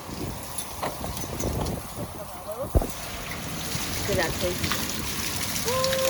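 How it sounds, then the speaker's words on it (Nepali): Heavy rain and hailstones pelt a rooftop terrace in a steady broadband wash, with water streaming down and gusts of wind; a few sharper impacts stand out and a voice speaks over the downpour. "पानी चाहिँ ठुलो ठुलो ठुलो पानी परेको छ हाम्रो कौसी पुरा भिजेर"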